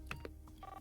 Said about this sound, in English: Let's try the phone